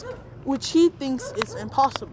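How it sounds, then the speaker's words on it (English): Small dog yips and whimpers break out in short bursts beneath a person talking. "Sorry about the dog barking."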